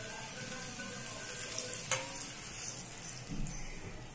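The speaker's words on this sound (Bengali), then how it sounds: "এই ময়দাটার মিশ্রণটাকে আমি এর মধ্যে ঢেলে দেব।" Flour mixture poured into a pan of sizzling chilli pasta, a steady frying hiss with a brief sharp splash-like burst midway and a low watery swell near the end, close with no voices.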